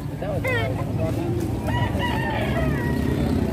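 A grey Batangas rooster with a straight comb crows loudly nearby in a few rising calls, set against a steady outdoor background rumble, with clucks from other fowl and a hint of voices.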